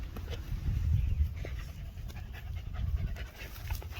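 Dogs pant close by in quick, steady rhythmic breaths, loud and continuous throughout, outdoors at a park.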